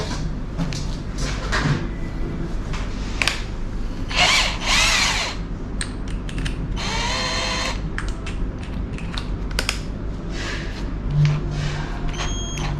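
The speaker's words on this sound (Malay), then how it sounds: "Kita pasang skru yang ni adalah anti clockwise" KEELAT 600NM brushless cordless impact wrench driving a screw anticlockwise, with loud close bursts of whirring and rattling hammering separated by short pauses, over a steady low hum.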